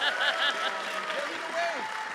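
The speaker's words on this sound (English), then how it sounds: "I want to get this applause here on record" Audience applause and scattered cheering from a retro gaming expo panel room in Portland, continuous at moderate level, with voices and laughter mixed in.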